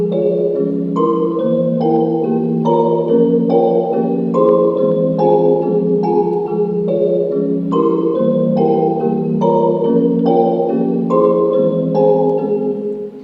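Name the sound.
chopped chord pitched down an octave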